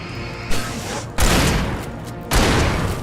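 Shotgun fire in the Alan Wake video game: heavy, loud booming blasts with long noisy tails, a couple of big shots following a smaller thud, dominating the mix.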